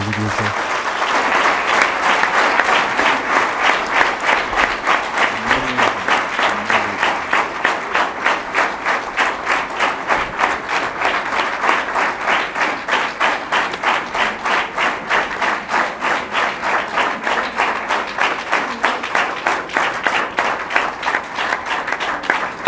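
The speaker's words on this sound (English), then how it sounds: "This applause could go on eternally." Long sustained applause from a large audience at the close of an inspirational speech by Brahmavihari Swami, dense steady clapping with a regular pulsing rhythm that carries on for over twenty seconds without talk.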